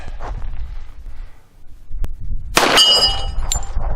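A single sharp report from a Thompson Auto-Ordnance 1911 .45 pistol fired one-handed at an outdoor range: a loud close crack that rings on briefly, with a fainter metallic clink after it.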